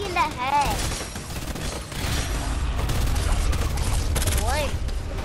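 Rapid bursts of gunfire while shooting a zombie in Fortnite, dense fusillade-like shots running through the whole stretch, with a voice talking over it.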